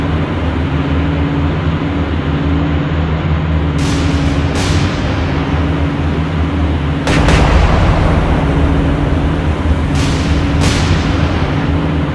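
Heavy naval gunfire from the battleship North Carolina in the naval combat game War on the Sea, with booming salvos near 4, 7 and 10 seconds over a steady low engine drone, no talk.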